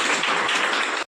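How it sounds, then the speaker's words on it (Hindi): A brief, dense burst of clapping and applause from a group fills about a second, then cuts off abruptly. "ताली बजा दो।"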